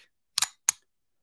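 Hammer of a 10 mm pistol being cocked back right next to the microphone: two sharp, close metallic clicks about a third of a second apart, alone in silence.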